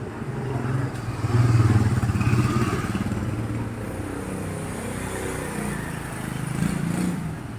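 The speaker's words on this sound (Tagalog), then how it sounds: "Yung motor ah." A motorcycle engine runs close by with a steady, rough low rumble and mechanical clatter, briefly swelling louder as if revved before settling back to a continuous idle-like drone.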